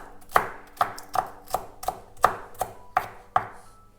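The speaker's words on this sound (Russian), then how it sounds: "Укроп нарезаю мелко." A knife chops fresh dill finely on a cutting board: about nine crisp, evenly spaced strokes, close and clear, with no talking.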